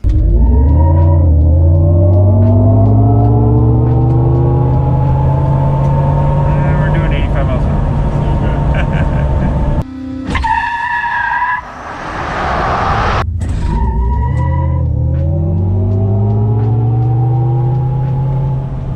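A GMC Hummer EV accelerates hard from inside the cabin, its electric motor whine climbing steadily in pitch, briefly dropping out and surging again, loud and close throughout.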